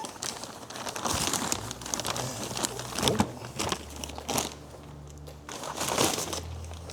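Close, loud crinkling and crunching of an empty plastic grain bag being handled while spent brewing grains are emptied, in irregular bursts with a few quieter pauses.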